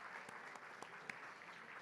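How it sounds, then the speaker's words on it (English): Faint, steady applause from an audience at a foreign press awards evening at the National Press Club in Washington, D.C., forming a soft, even wash of clapping with a few sharper claps standing out. "let's give them a round of applause"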